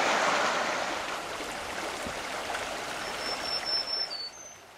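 The Two Island River, a small brook trout stream on Minnesota's north shore of Lake Superior, flows with a steady close rush and burble of water. No one talks, and the sound eases slightly at the end.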